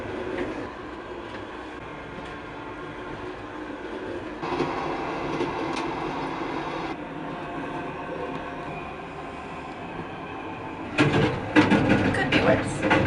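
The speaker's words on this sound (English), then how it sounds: "This train to Dnipro is actually pretty quiet." Steady low rumble inside a moving first-class intercity train carriage in Ukraine, fairly quiet and even, with a louder rattling surge near the end.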